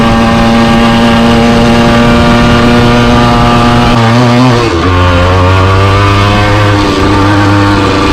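A 1978 Yamaha DT175 two-stroke motorcycle is ridden hard, its loud buzzing engine close and constant. Near the midpoint the revs dip sharply for a gear change, then climb again to a new steady pitch.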